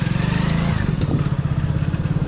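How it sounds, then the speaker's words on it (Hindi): A motorcycle engine idling after being started, a steady low throbbing chug close by with a rhythmic pulse throughout and a little clatter. "तो पहले स्टार्ट हो चुकी है अपनी बाइक"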